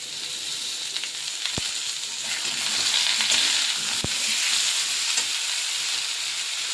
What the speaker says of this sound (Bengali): আলুগুলো দেখো হালকা করে ভাজা হয়ে গেছে, এবার বেগুনগুলো দিয়ে দেবো